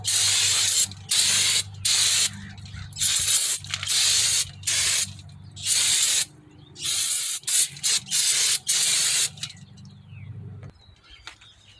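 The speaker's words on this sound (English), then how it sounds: "you want to use a brake cleaner and spray it" Brake cleaner hisses from an aerosol can onto a car's parking brake parts in a series of loud, close bursts of about a second each, separated by short pauses, ending with faint clicks.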